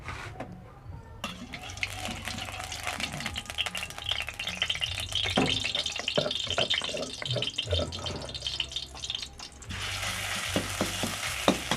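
A pounded paste fries in a generous amount of oil, making a continuous close sizzle with intermittent stirring scrapes and spatula knocks throughout.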